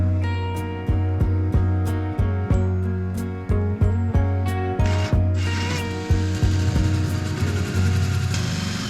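Hole saw drilling through boat material, a steady whirring grind with a regular series of sharp ticking knocks about every half second, then a louder rough scraping burst near the end.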